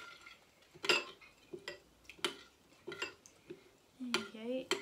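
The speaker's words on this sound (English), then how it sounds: "Just hold the bowl while I give it a good mix round." A spoon stirring a sunflower heart and lard mix in a bowl makes scattered clinks and scrapes against the sides, close and fairly soft, with a voice speaking over it.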